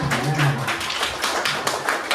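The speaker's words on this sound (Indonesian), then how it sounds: "kita beri tepuk tangan dulu untuk kelompok Purma." Classroom applause for a student group, with light, irregular hand claps and taps spread across the whole clip at moderate level and no talk over them.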